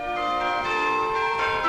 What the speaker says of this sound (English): Here, how about these bells?